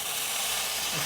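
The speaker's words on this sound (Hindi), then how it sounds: "ये इसके बॉडी के रगड़ने से आवाज़ आती है," A saw-scaled viper rescued from a house rubs its scales together, giving a steady, close, broadband rasping hiss that runs unbroken through the whole short moment with no voices over it.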